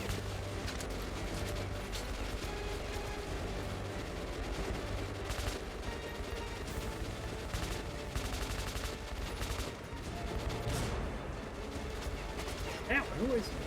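Gunfire in the shooter game Metro Last Light: bursts of automatic shots and single cracks recur throughout, fairly faint against a steady busy game background.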